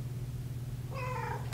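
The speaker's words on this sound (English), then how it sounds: "There's a cat at the door." A cat meows at a door, a single drawn-out meow midway through, fairly clear over a steady low indoor hum, followed by a brief click.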